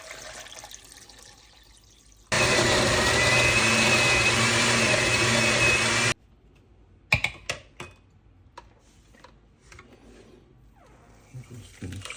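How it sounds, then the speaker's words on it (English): A kitchen blender whirs loudly for about four seconds as it blends carrot, ginger and water, starting and stopping abruptly, followed by quieter clattering, clicks and knocks of handling. "I'm just gonna take the carrot right into the blender."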